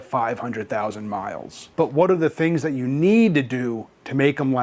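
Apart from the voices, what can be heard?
No everyday noise stands out behind the speech.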